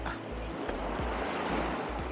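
Ocean surf washes steadily around a person standing in the sea on a Saturday night, a continuous close rush of water with low rumble and wind, no talk.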